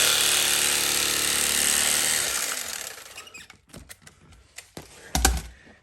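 Upholstery foam for a chair seat is cut to size. A loud, continuous buzzing rasp runs for about two and a half seconds, then stops. Scattered handling knocks and rustles follow, with one heavier thump near the end.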